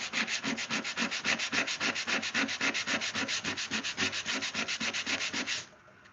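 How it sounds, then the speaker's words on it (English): Rapid, even back-and-forth strokes of sandpaper rasp against wooden egg holders, close and steady for several seconds before stopping. "There's always some kind of sanding involved."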